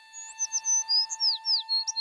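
A small sparrow chirps in a quick series of high, bright tweets and short whistled notes, close and clear with no other sound around it.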